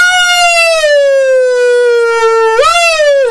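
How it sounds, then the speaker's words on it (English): An air raid siren wails loudly and alone, a sustained tone that slowly falls in pitch and then sharply rises again as a new cycle begins. "Shut off the fucking air raid sirens!"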